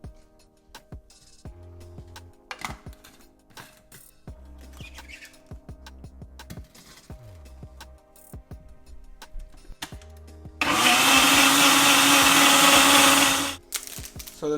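A Ninja blender mixes an ice cream base in a loud, steady whir for about three seconds near the end, after a stretch of quiet kitchen clicks and handling noises.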